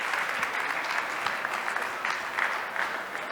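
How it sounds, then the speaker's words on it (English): A conference audience claps, a steady, fairly even wash of applause from a room full of people lasting a few seconds, moderately loud and without cheering. "Can we have a round of applause for him"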